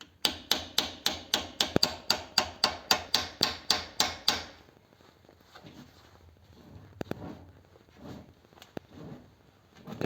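About fifteen sharp, evenly spaced hammer strikes ring out close up, then stop, leaving quiet shuffling with a few scattered taps and clicks.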